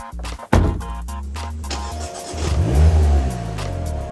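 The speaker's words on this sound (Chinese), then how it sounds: "引擎发动，瞬间上冲的引擎声让我有些兴奋" A Mazda MX-5 100th Anniversary edition with a six-speed manual fires up with a sharp starter burst, then settles into a steady mid-pitched idle before a rising rev swell, close and loud with no talk.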